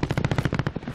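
Rapid automatic gunfire from the Warzone video game, a steady burst of about a dozen close, loud shots in quick rhythm lasting the full second, with no talking.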